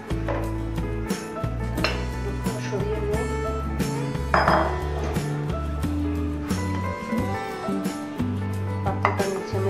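A bowl for semolina is picked up and set down in a home kitchen, giving scattered clinks and knocks of dishware over a low background hum, with a voice talking between the sounds.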